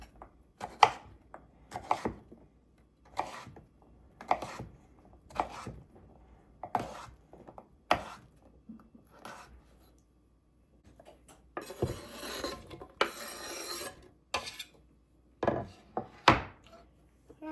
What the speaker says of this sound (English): And I'll just cube this up. I'm going to make these fairly small